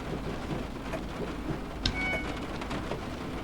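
Steady heavy rain hiss in Train Sim 2021, a constant broadband wash with a brief louder crack of thunder partway through, no voices.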